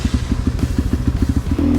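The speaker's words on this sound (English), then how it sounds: "my first time riding a motorcycle on the street legally" A cheap 250cc motorcycle rides along a street in freezing weather, its engine putting out a steady, rapid thumping pulse close to the microphone, ending in a smoother sustained drone.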